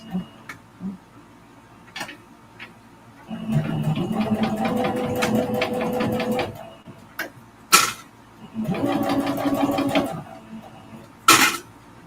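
Home sewing machine stitching fabric for a mug rug: two bursts of rapid mechanical chatter several seconds long, separated by pauses with clicks and sharp taps from handling the machine, fairly close and clear.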